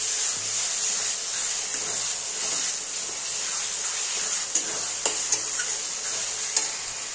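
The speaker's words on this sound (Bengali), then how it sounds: "এবার আমি কষিয়ে নেব ভালো করে" Mutton being stir-fried for Bengali mutton kosha with ginger, garlic, green chili, dried chili paste, cumin paste and a little onion gives a steady close sizzle, with occasional light scraping ticks from a stirring spoon.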